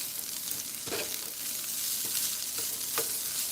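Cabbage fries on a cook stove with a steady, quiet sizzle and crackle, a few brief stirring scrapes breaking through the constant hiss.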